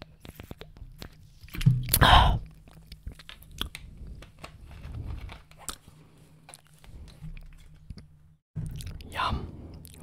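Close, intimate chewing and biting of pasta salad for ASMR, with soft wet crunches and mouth sounds in short bursts, one louder chewing spell early and another near the end, separated by quieter stretches.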